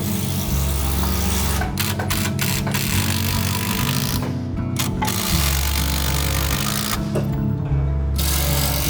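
Power tool driving screws into roof rafters during house framing, a loud continuous whirring drone with pitch shifts and brief pauses between screws, filling the whole stretch.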